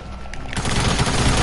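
Rapid bursts of gunfire from a PS4 shooter game, a sparse shot or two, then a dense, sustained volley of overlapping shots that stays loud through the rest.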